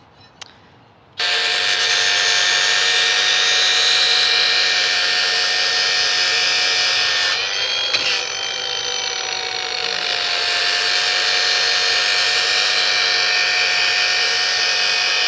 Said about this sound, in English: I just personally like the variable speed grinder.